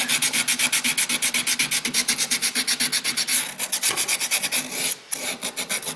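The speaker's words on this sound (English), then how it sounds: "Got to scrape off all the big chunks first. And I just use a piece of emery cloth." Emery cloth rubbed briskly back and forth over a metal part on a Kia Sedona to make it shiny, a loud, close, rhythmic rasping scrub of rapid even strokes with a short pause near the end.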